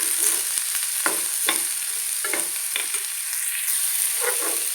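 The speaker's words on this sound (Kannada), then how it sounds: "ಈರುಳ್ಳಿ ಇವಾಗ ಫ್ರೈ ಆಗಬೇಕು ಚೆನ್ನಾಗಿ" Two finely chopped onions sizzle steadily in a pan as a spoon stirs them with intermittent scraping strokes, close and continuous with no talking.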